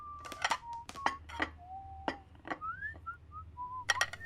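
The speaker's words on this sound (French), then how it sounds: "il empile des assiettes en sifflotant dans la cuisine" Someone whistles a loose, wandering tune softly while stacking plates in a kitchen, dishes clinking and clattering close by.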